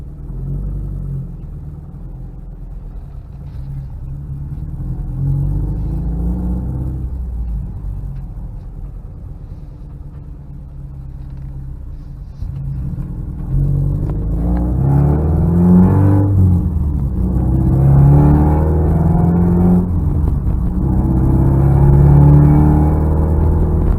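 A 2014 Subaru WRX Limited drives and accelerates, a deep in-cabin engine rumble that builds as the revs climb through the gears, with the pitch rising and falling between shifts in the second half.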